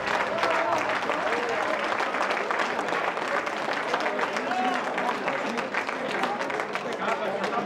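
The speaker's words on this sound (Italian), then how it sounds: "È un gran tempo, signori, direi di applaudire." Sustained crowd applause at a regional youth athletics championship, steady and dense for the whole stretch, with a commentator talking over it.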